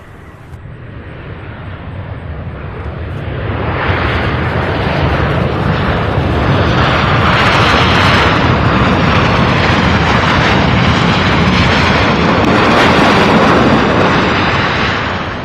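An airliner arriving from Atlanta at Louisville International Airport roars in, the engine noise swelling from moderate to loud after a few seconds and holding as a broad sustained rumble until easing at the end.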